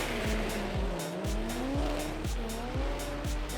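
Race cars at the Grand Bend Motorplex drag strip roar loudly, engine pitch repeatedly surging and dropping in quick rhythmic sweeps, with tire squeal mixed in.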